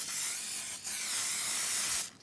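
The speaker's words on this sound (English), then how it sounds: "I'm going to spray the pork chops with some spray" A close, loud hiss of an aerosol cooking spray onto pork chops in one long burst with a brief break, ending abruptly.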